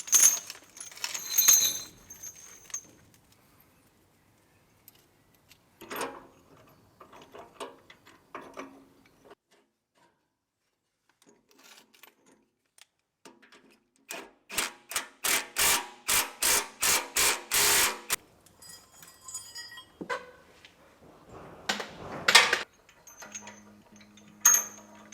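Metal chain links being hooked onto a tractor bar, a run of sharp clinking, rattling impacts with a quick rhythmic burst of clanks in the middle and scattered knocks and scrapes around it, close by, with no talking.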